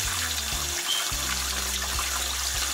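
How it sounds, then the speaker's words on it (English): Running water from a tap pours steadily into a sink or tub for rinsing bleached hair with neutralizing shampoo, a continuous close wash with low tonal hum underneath and no voices. "We're about to wash our hair."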